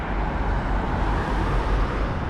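Steady city car traffic in Melbourne forms a continuous, fairly loud rumble of engines and tyres, with no single vehicle standing out.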